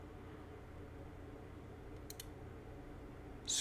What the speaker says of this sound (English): we're simply going to right click over here